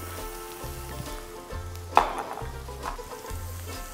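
Ginger and garlic fry in hot oil with onions in a pan, a soft steady sizzle broken by faint clinks and stirring, with one brief clatter partway through.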